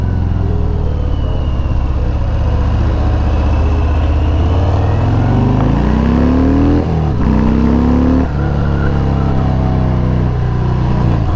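A Harley-Davidson Fat Bob motorcycle engine on a test ride, loud and close, a steady rumble that rises through several revving climbs and gear changes, with no talk.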